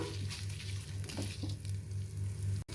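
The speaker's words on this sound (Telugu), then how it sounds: "చూడండి, చిట్టపట్లు ఆడుతున్నాయి కదా ఎండుమిర్చి కూడా" Sesame, cumin, coriander, fenugreek and dried red chillies fry in hot oil for an Andhra brinjal chutney, giving a loud, close, continuous sizzle with crackling pops throughout.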